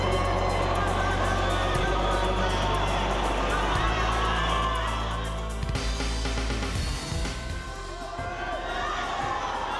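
A dense crowd at a district swim meet cheers and yells steadily for a swimmer, a loud, continuous roar of voices that dips briefly midway before swelling again.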